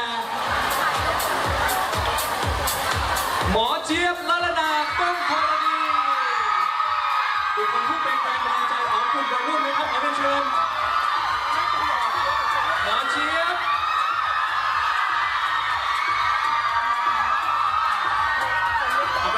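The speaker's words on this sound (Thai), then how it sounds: "เดี๋ยวเราจะได้กรี๊ดกันให้สุดเสียงแล้วนะครับ" A crowd screams and cheers loudly, with shrill whoops and yells sustained over a rhythmic pulsing beat that drops out partway through.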